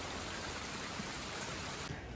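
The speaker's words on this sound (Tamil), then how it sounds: "மழை அடிக்கடி பெய்து கொண்டிருந்ததால் தண்ணீர் ஊடறுத்து பாய்ந்து கொண்டிருந்தது படிகள் வழியாக" Steady rain falls at Ella's Ravana cave while water runs down the stone cave steps, a dense, even hiss of drops and flowing water with no voices.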